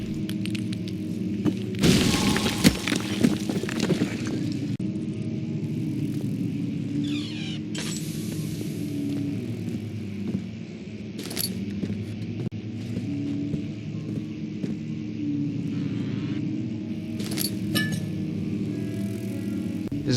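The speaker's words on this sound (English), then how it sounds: "You can actually break this wall just by rapidly clicking on it." A wall being broken apart by repeated clicks in the video game Amnesia: a heavy crumbling crash with clinking debris near the start, followed by scattered knocks and cracks over a steady low ambient hum.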